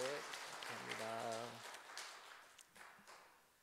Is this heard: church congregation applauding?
yes